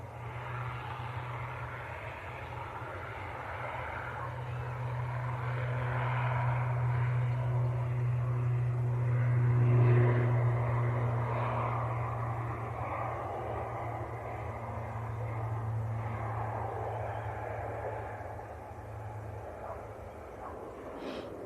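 An airliner taxis off a taxiway at Manchester Airport, its engines giving a low sustained rumble that swells and fades at moderate distance, with no talk over it.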